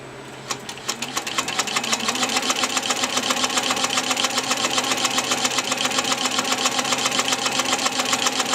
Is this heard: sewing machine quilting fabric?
yes